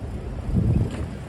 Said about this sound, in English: the wind is extremely relentless